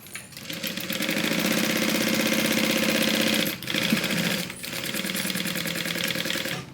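Sewing machine stitching a 3/8 inch seam allowance on a divider bag, a rapid mechanical chatter running steadily, briefly pausing twice for the back stitch before resuming, close and fairly loud.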